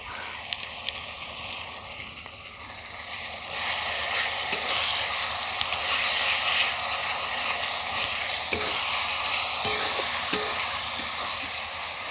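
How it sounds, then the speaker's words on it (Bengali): Onion fries with ginger-garlic paste and green chillies for a Bengali jackfruit and prawn curry, sizzling steadily and loudly while a spoon scrapes and stirs the pan with occasional sharp clicks. "এই পর্যায়ে আদা রসুন বাটাটা দিয়ে দেব সঙ্গে দুটো তিনটে মতন কাঁচা লঙ্কা আছে"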